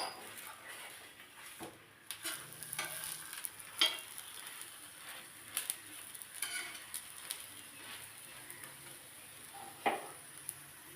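Patishapta, a thin Bengali rolled pancake, frying on both sides in a pan, giving a faint steady sizzle with scattered soft ticks and light pan scrapes.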